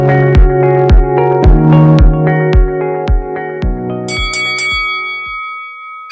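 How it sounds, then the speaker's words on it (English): A boxing bell rings repeatedly in a quick, even rhythm, each strike loud and ringing, then a few brighter, higher dings near the end before it fades. "you just heard the bell"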